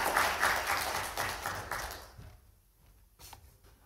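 Audience applause welcoming a lecturer at a university science talk: a dense round of clapping that fades out after about two seconds, followed by a near-quiet room and a faint tap.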